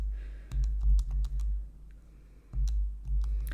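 Calculator keys pressed in quick irregular bursts, crisp close-up clicks in short clusters with brief pauses and no talking.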